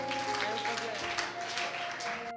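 Children applauding at a Bible quiz program, a dense steady clapping that fills the whole stretch alongside musical tones and voices in the background, ending abruptly.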